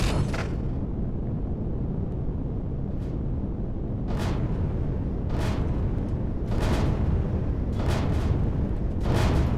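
Weapon shots fired at a dropship in the video game Empyrion Galactic Survival, a series of heavy booming blasts at irregular intervals over a constant loud rumble.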